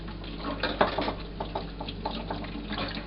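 Soapy hands rinsed under a running kitchen tap while washing dishes, a steady splashing stream with small irregular splatters and clinks throughout.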